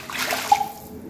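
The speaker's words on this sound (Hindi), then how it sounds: "ये मैंने आप इसके अंदर पानी ऐड कर दिया" Water is poured into a pot of vegetable pulao with a steady splashing pour, loudest midway and then tapering off to quiet, with no talking.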